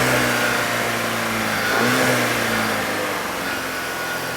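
Turbocharged 2.0-litre engine of a 2013 VW GTI revving steadily, a continuous loud drone with a slight rise in pitch midway, no voices.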